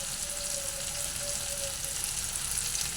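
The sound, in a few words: black cumin seeds sizzling in hot oil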